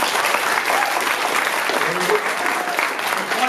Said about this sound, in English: So can we all give them a big applause now?